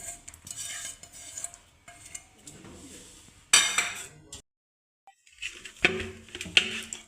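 Gobindobhog rice being stirred in a pot while cooking for payesh, a spoon scraping and clinking against the pot in uneven strokes, with a brief pause midway before the stirring resumes close by.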